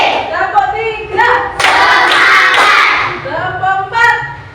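A school class clapping in rhythm, short bursts of group claps under spoken counting by a teacher and children's voices, close and loud.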